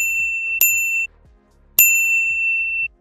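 A notification bell sound effect chimes twice, each a crisp metallic ding that rings out with clear overtones, spaced about a second apart over a low, quiet background.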